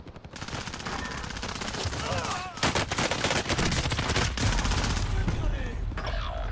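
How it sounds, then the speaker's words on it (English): Rapid automatic gunfire in the video game Call of Duty: Modern Warfare, dense bursts of shots rattling almost continuously, loud and close, with a player's voice speaking over it. "I'm getting shot at."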